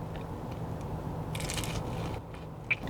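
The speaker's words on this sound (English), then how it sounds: "Let's take a taste of their shrimp tempura." Someone bites into crunchy shrimp tempura, the crisp breading giving a brief close crackle and crunch over steady room noise, with no talk.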